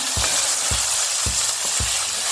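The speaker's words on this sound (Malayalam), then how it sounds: "ഇത് നല്ല ബ്രൗൺ ആവുന്ന വരെ വഴറ്റിക്കൊണ്ടേയിരിക്കണം." Sliced onions sauté in a hot pan on their way to browning for a Kasaragod-style chicken ghee roast: a steady, bright sizzle with soft rhythmic thuds from stirring strokes about twice a second, close up and with no talking.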